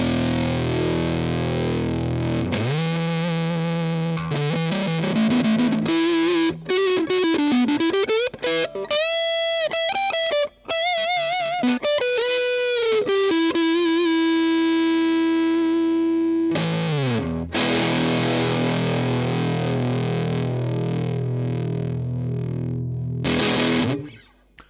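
An electric guitar runs through a Fender Super 60 amp with a Beatronics Tuner Fuzz pedal, buzzy fuzzed notes that bend and slide in a melodic line, then open into sustained chords, loud and alone before a final stop.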